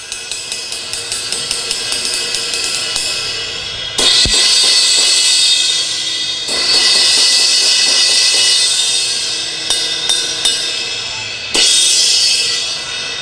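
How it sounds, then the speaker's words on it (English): A thin 20-inch Zildjian K Dark Crash cymbal struck repeatedly, loud washy crashes with quicker taps and ride strokes between them and several fresh accented hits, each decaying into a shimmering sustain. "Great full dark crash sound, nice clear bell, and it sounds like this."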